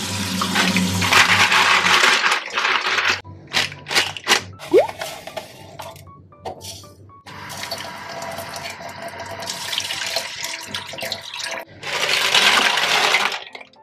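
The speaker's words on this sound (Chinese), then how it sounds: "洗一洗佢，然后浸盐水等佢套沙" Live clams being washed under a running kitchen tap in a sink, then left to soak in salt water to spit out sand. Water gushes loudly in bursts, broken by clinks and rattles of shells, with no talking.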